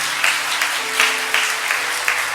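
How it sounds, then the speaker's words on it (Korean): A crowd applauds steadily, dense clapping in a big room, with a faint low hum of music beneath. "우리 박수 한번 하십시다."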